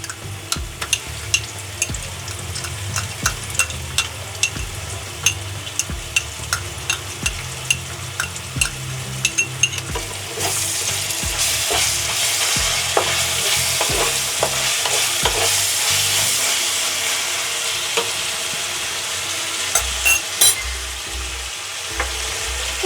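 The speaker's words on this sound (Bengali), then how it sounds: "কাঁচা লঙ্কাটা হালকা ফ্রাই হয়ে গেছে" Green chillies and ginger garlic paste fry in a pan with repeated sharp spoon scrapes and knocks as they are stirred, then a louder hiss of sizzling oil swells midway, all close up with no voices.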